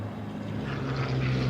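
A P-51 Mustang propeller fighter flies at an airshow at Duxford, a steady droning engine note that swells slightly as it continues, with no voices over it.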